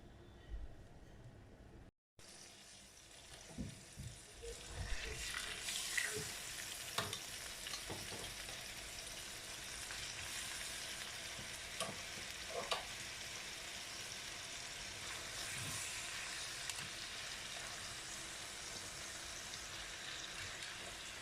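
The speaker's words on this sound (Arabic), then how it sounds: "عشان احمر فيها الفراخ كده تديها تشويحه بالبصل" Chicken frying in ghee with onions over high heat, a steady close sizzle with occasional clinks and stirring scrapes throughout, no talk.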